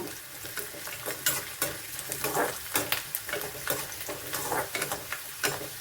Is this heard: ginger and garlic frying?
yes